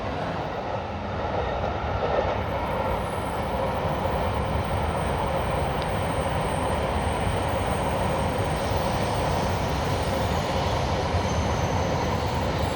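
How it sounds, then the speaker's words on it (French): Trains rumble past continuously on railway tracks in Tokyo's Yanaka district, a loud, steady roar of rolling wheels with a faint high squeal along the rails. "Voilà, des trains qui passent dans tous les sens."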